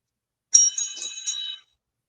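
A small bell on a toy rings with a few quick bright jingles over about a second, then silence.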